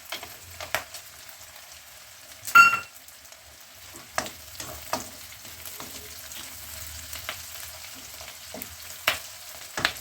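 Onions and cashews fry over a high gas flame, a faint crackling sizzle broken by a loud splash as the nuts hit the pan, then scattered stirring knocks and clatters.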